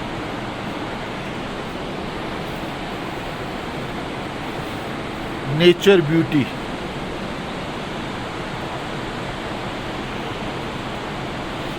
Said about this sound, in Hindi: ये अलकनंदा नदी जो पूरे जोश में बह रही है।